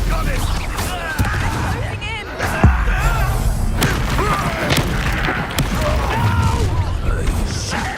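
Confringo fire spells explode during a duel in the video game Hogwarts Legacy. Repeated loud booms and thuds come in quick succession, mixed with crackles, other spell effects and voices shouting throughout.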